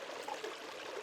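Soft, quiet running water at Ram Jaladurgam, a continuous trickling flow with light bubbling and no talk.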